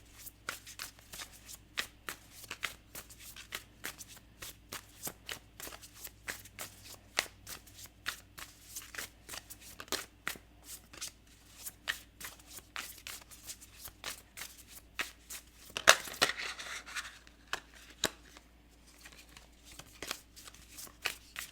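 A deck of tarot cards is shuffled by hand over and over, soft rapid riffles and slides in repeated bursts, close and fairly quiet, with one louder flurry near the end and no talking.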